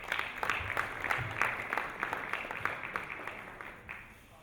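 Steady applause from an audience, many hands clapping in a dense, even patter that gradually thins out.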